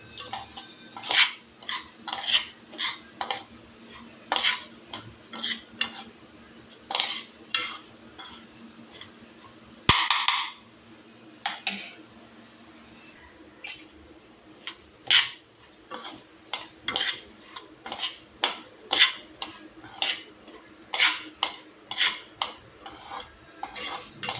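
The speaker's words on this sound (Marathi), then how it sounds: "छान परतवून घ्यायचे तांदूळ तुपामध्ये" Rice stirred and sautéed in ghee in a pot for veg biryani, a spoon scraping the metal in steady repeated strokes with a faint sizzle underneath, one louder clank partway through.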